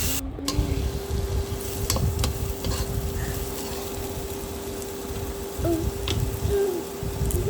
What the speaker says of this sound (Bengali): পেঁয়াজ রসুন আদা আমি আবার একটু ভেজে নেব